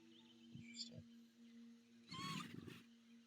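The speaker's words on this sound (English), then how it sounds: "Here's the roar. It's kind of just like a little honk." A small dinosaur's roar in the Dinosaur Simulator video game, a short honking call heard as a brief burst near the end, preceded by a couple of faint blips over a steady game hum.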